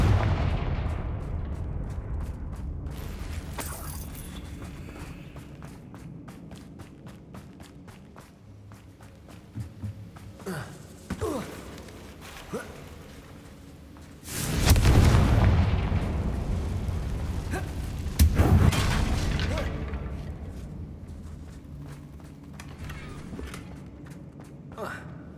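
Confringo fire spell explosions in the wizarding game Hogwarts Legacy, heavy booming blasts around the middle of the stretch over rumbling game ambience, with footsteps and a speaking voice at times.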